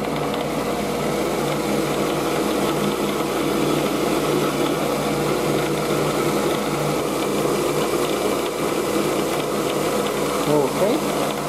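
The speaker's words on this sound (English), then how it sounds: "And we shall drill holes." A drill press boring holes in a part for an early Zenith radio, a steady high motor whine with a constant mechanical hum, fairly loud and close.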